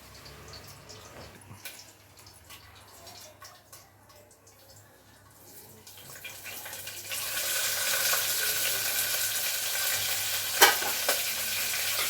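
Tempering spices for dal fry and get stirred in a hot pan. A faint scraping and sizzle swell into a loud, steady hiss in the latter half, with no talking.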